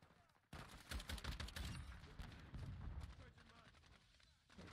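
Lachman weapon firing in Modern Warfare 2 gameplay, a dense burst of rapid gunshots starting abruptly and continuing in clustered volleys, fairly quiet overall.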